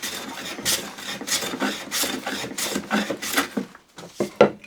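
Hand plane taking a thicker shaving from wood, a series of about eight rhythmic rasping strokes, close and distinct, each pass a short hiss with brief gaps.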